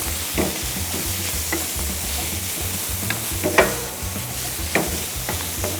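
Food sizzles steadily in a pan while a spoon scrapes and taps through it in irregular strokes, close and fairly loud; soya with ground rosemary being stirred.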